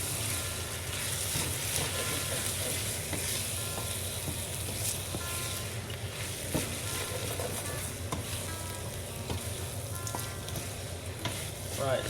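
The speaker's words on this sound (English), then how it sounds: "we're gonna add the mutton. Right, it goes in, and we stir it up," Mutton sizzles and fries in a pot for Sri Lankan Batticaloa-style curry while being stirred, a steady close crackling hiss with occasional scraping and no talk over it.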